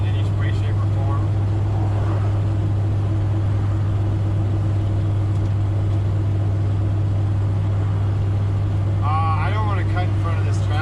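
A motorhome built from a converted vehicle cruises along a road at about 30 mph in second gear, a steady low engine drone and road rumble throughout, with someone talking over it.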